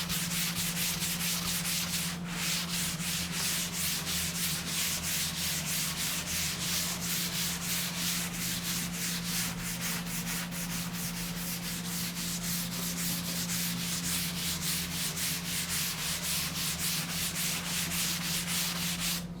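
Continuous hand sanding of a balsa wood surfboard blank with coarse 40 to 50 grit sandpaper, a steady close rasping rub running unbroken throughout with a constant low hum underneath.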